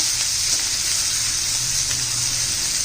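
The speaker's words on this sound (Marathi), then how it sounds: "एक दोन मिनटं चांगलं परतून घेऊया आपण" Chopped bottle gourd sautéing in a hot pan, a steady continuous sizzle with faint stirring scrapes, close and even throughout.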